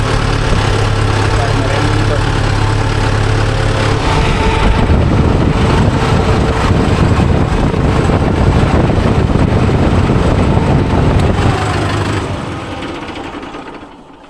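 Mahindra Yuvo Tech Plus 585 4WD tractor engine idling steadily nearby, a continuous low diesel rumble that fades slightly toward the end.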